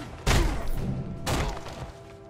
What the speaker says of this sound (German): Was ist denn da explodiert?